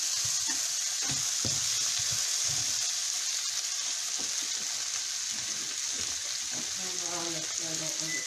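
Tomatoes sautéing in a pan for Tuscan shrimp with a constant bright sizzle, stirred now and then with faint scraping, while a voice murmurs lightly underneath.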